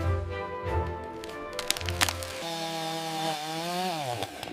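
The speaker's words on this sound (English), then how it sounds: "all done with a mini chainsaw." A mini chainsaw carves wood into animal shapes, its small engine buzzing at close range, revving and dipping in pitch as the blade bites in and eases off.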